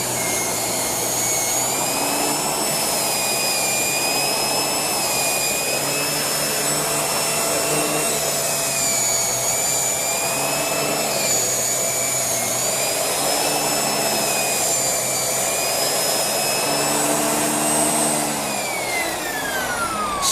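A 2018 Shark Rotator Speed Lift-Away vacuum cleaner runs continuously and loudly up close, a steady high whine with slight pitch wavers throughout, with no voices.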